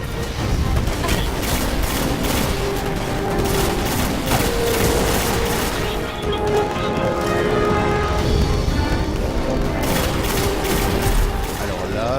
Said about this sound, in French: Là j'ai utilisé le lance-roquette là, j'ai le lance-roquette sur moi